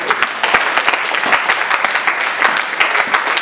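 A church congregation claps loudly and steadily to acclaim Jesus during a Sunday worship service. Many hands beat in a dense, lively rhythm close by, with no talk over it.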